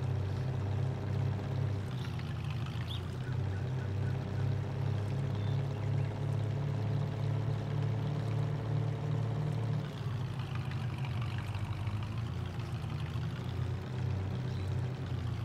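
Steady rushing river water flows continuously in the farming game Landwirtschafts-Simulator 19 on the Grizzly Mountain map, a constant low rumble with broad hiss, with no talking over it.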